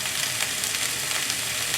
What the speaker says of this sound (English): Because you can hear the sound, the sizzle sound.